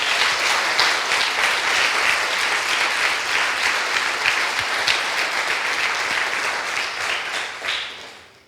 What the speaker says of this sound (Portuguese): Se você crê, aplauda o nome do Senhor Jesus.